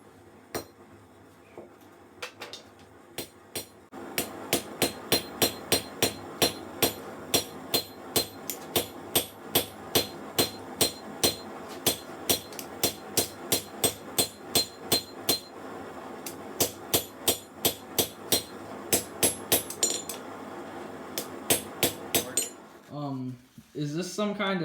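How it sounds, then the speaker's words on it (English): A power hammer pounds leaf-spring steel in a long, fast, steady series of sharp ringing blows, loud and close, speeding up near the end. "And we are also using the power hammer."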